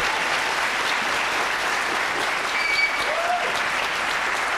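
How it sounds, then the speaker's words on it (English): A conference audience applauds in a steady, sustained wash of clapping that holds at an even level throughout, with no voices over it. "since we have these nice applause here"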